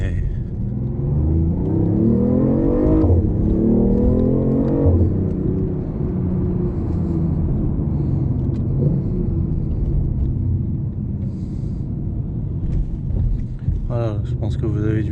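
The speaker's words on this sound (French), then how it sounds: "à quel point ça peut pousser. Et puis le bruit sympa qui va avec, quoi." A BMW i8 sports car in Frozen Yellow accelerates with a loud, close engine roar that climbs in pitch twice before settling into a steady rumbling drone, while someone talks over it throughout.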